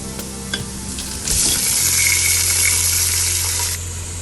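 Meat goes into a pan of browned onions and bursts into a loud, steady sizzle after a few clinks and a brief rustle. The frying stays close and continuous, then eases off near the end.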